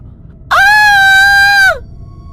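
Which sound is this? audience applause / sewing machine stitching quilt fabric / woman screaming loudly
woman screaming loudly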